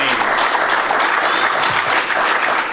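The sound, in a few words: congregation applauding in church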